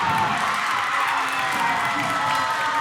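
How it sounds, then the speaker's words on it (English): A home crowd at a Shoreline Dolphins women's basketball game on Larry Walker Court cheers and shouts steadily throughout, a dense, continuous roar of voices filling the gym. "the Dolphin crowd is definitely coming alive now here on Larry Walker Court"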